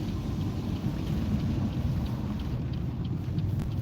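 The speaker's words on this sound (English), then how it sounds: "It's raining again." Rain drums steadily on a car during a drive, a dense, even low roar without pauses.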